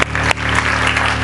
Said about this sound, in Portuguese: Posso ouvir o seu aplauso ao Senhor Jesus